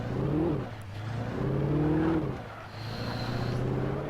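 A car driven in the video game Alan Wake, its engine droning and revving up and down steadily and loudly throughout, close and clear with no talking.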